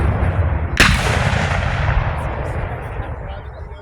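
A single loud gunshot blast from Civil War reenactment soldiers on an outdoor battlefield, followed by a long rolling echo and rumble that slowly fades, with faint crowd voices in the background.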